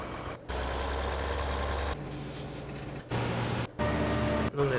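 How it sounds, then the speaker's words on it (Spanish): Tractor engine in the Farming Simulator 2013 video game, a steady loud droning rumble that cuts out briefly several times and returns at shifting pitch as the vehicle drives; no talking. "Y como tenemos un tractor ahí, vamos a darle este a conducir ahora."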